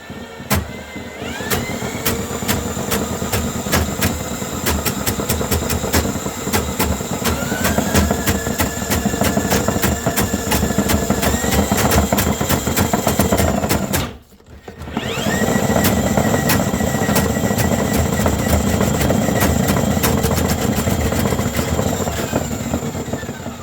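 A drain snake cable machine spins inside a clogged kitchen sink, giving a loud, continuous motorized whir and rattle that cuts out briefly partway through, then resumes.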